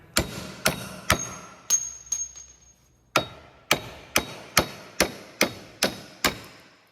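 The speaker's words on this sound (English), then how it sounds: "now we're gonna knock these out with a hammer." Sharp metallic hammer strikes knock out strut bolts on a 1996–2007 Dodge Grand Caravan front axle, a few spaced blows then a steady run of about eight evenly timed hits, close and loud.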